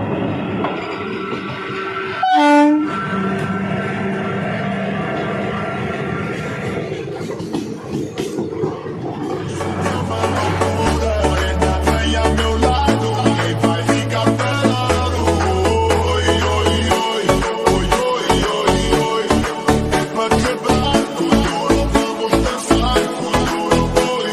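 The Kanchanjunga Express passenger train runs on the Sealdah to Agartala route, heard from on board. A loud steady rumble builds into a rapid rhythmic clatter of wheels over rail joints, with a brief horn early on.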